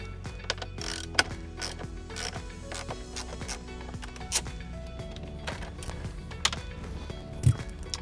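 Small 8mm screws being backed out of an Audi B9 A4 dashboard vent give a steady run of quiet clicking, ratcheting mechanical ticks with a few sharper knocks, close up and without talk.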